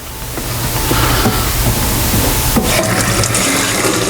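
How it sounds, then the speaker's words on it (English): Hot water pours steadily into an Italian ice mix, a continuous loud splashing gush that fills the whole stretch without pause, close by with no voices over it. "we're going to just add a little hot water, like 2 ounces of hot water"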